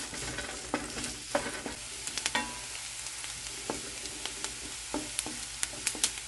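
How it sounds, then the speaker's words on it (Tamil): Chopped onions fry in oil in a pan while being stirred, giving a steady close sizzle broken by repeated scraping knocks of the spoon, with no talking. "இப்போ வெங்காயத்தை ஒரு நிமிஷம் நல்லா வதக்கிக்கலாம்."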